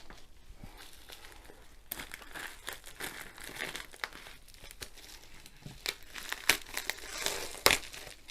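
Crinkling and tearing of bubble wrap and packing material as a box is cut open, with irregular rustles, snaps and scrapes close by at low to moderate loudness.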